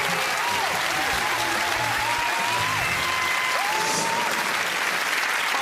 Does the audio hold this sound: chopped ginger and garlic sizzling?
no